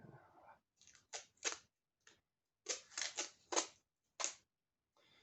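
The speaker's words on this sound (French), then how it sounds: "il se déchire comme rien le Chatterton" Chatterton electrical tape is torn and pulled off the roll in a series of short, sharp ripping bursts, close and fairly quiet, with brief pauses between tugs.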